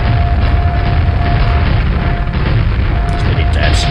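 Grenade launcher blasts in the first-person shooter Quake give heavy, booming thuds over a constant dense game rumble, a thin tone running through, with a few sharper crackling bursts near the end.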